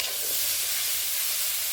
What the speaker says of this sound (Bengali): এগুলোকে এবারে একটু ভেজে নিতে হবে।